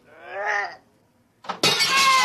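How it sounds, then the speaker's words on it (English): A bottle hurled through a building window in a radio drama, a man's grunting heave first, then a short pause before a loud, sudden crash of shattering glass that sprays on to the end. "I can heave one right through that window."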